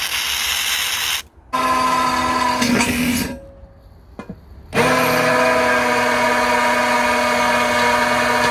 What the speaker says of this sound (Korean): 이차 공기 주입을 위해서 구멍을 뚫고 있습니다.